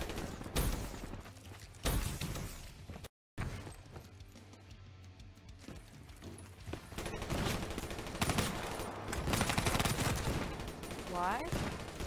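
Rapid weapon fire from the Rift E9 in Call of Duty: Black Ops III, a dense run of loud gunfire bursts with brief pauses, explosive blasts mixed in, and game sounds layered throughout.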